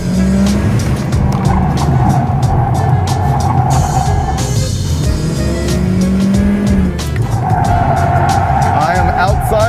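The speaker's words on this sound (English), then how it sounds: "I'm thinking the problem was Lucky was afraid to use the anti-locks like this. And then back on the throttle" A project car on a course brakes hard with its anti-lock brakes chattering and tires squealing, then roars back onto the throttle, loud and close throughout, with a voice talking over it.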